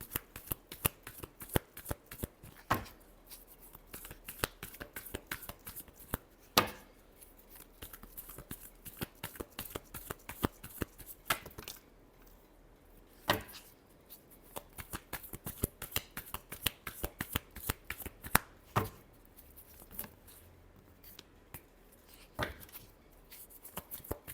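Tarot cards shuffled by hand, a long run of crisp riffling and slapping bursts with brief pauses, close and steady, with no talk over it.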